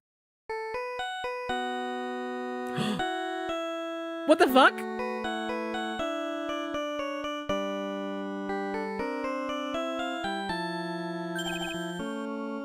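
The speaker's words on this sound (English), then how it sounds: "What kind of ringtone is that?" A phone ringtone plays a bright electronic melody of stepped tones, loud and close, running nearly the whole time, with a person's brief exclamation and a couple of noisy bursts over it.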